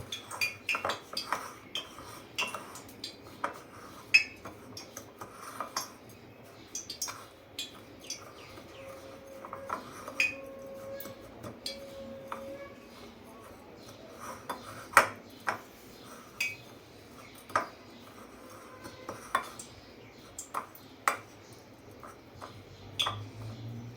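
Kashmiri chilli pickle ingredients are stirred together in a bowl, with quiet scattered clinks and taps of a spoon against the dish over a low background and no talking.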